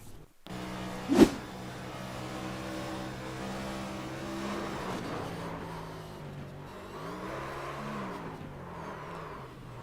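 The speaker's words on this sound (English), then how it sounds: "You heard there on that replay, Madigan gas it up to keep from backing it into the inside wall" A NextGen Cup Series race car in iRacing at Rockingham Speedway, heard on a replay, whirs and revs steadily for several seconds with a sharp click near the start and rising, shifting engine pitch later on.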